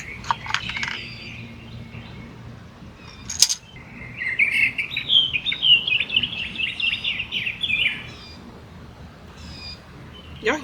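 A bird nesting in a nearby outdoor vent chirps in a loud, rapid run of high tweets lasting several seconds, close by, preceded by a few sharp clicks and bumps.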